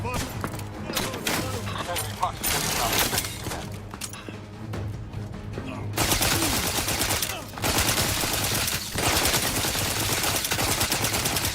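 Automatic gunfire in The Outer Worlds 2, scattered shots early on and then sustained, dense rapid firing for the second half, loud and continuous with brief breaks.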